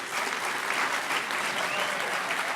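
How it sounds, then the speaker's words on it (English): Sustained audience applause at the HOPE Number Nine (2012) hacker conference closing ceremony, a dense wash of many hands clapping at steady volume throughout, with no individual voices standing out. "give yourselves a round of applause."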